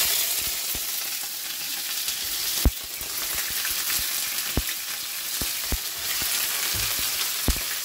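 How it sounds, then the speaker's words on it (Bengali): Onions frying in a pan for a roast, sizzling steadily up close and alone, with sharp utensil taps and scrapes against the pan at irregular intervals throughout. "এদিকে পেঁয়াজটা ভেজে নেব আমি রোস্টের জন্য"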